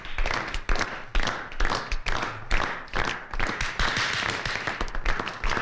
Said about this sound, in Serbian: Jedan aplauz za upravnika.